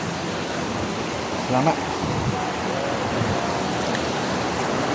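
A small river stream on a mountain trail at Gunung Berembun, Negeri Sembilan rushes in a steady broadband wash of flowing water, close and constant, with a brief word spoken over it.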